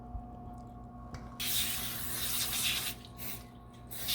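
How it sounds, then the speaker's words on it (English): Non-stick cooking spray hisses into a parchment-lined springform cake pan in a couple of short bursts, close and fairly soft against a quiet room hum. "I'm going to go ahead and spray it with a non-stick spray"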